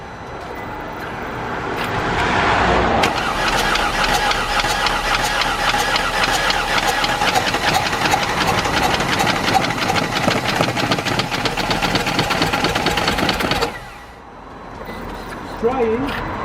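A flooded, previously seized Mercedes diesel engine cranks loudly and continuously for about ten seconds, a steady rapid chugging with a rough knocking rhythm. It never catches and cuts off abruptly, leaving quieter background noise.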